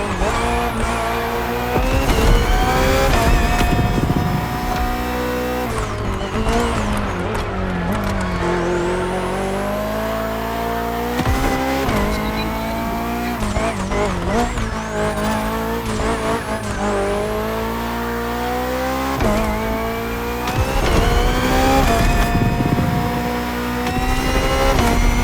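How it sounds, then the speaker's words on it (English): A BMW hybrid V8 race car in The Crew Motorfest, loud and close, its engine revving and shifting through gears with rising and falling pitch, tires squealing at moments, no talking. "The Hybrid V8 will do the rest."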